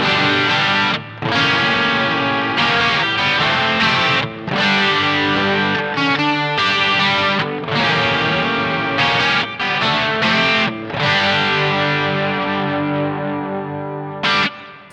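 Electric guitar played through a Nux Verb Core Deluxe reverb pedal, with a fast rotary-style chorus swirling only in the reverb trail; sustained chords and notes ring loudly and continuously, with brief gaps between phrases and no talking.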